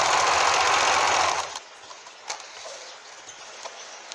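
A sewing machine stitches the side of a round pouf ottoman in a fast, even whirring run for about a second and a half, then stops, leaving a few faint clicks and fabric handling.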